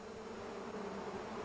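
Bees buzzing as a children's TV sound effect, a steady, low droning hum that stays soft and continuous throughout with no talk over it.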